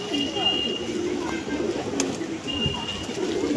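A pair of pet pigeons, one male and one female, coos softly and repeatedly close by while a person talks in the background.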